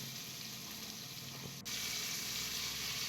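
Onions sizzle with fennel seeds in a pan for a homemade vegetable kurma, a steady close hiss that briefly dips and then returns slightly louder.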